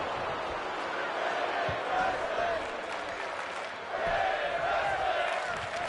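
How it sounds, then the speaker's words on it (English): A video game arena crowd in WWE 2K23 at a women's wrestling match, a continuous roar that swells in waves with faint rhythmic chanting, loud and steady throughout. "Fans at attendance chanting women's wrestling as the crowd comes alive."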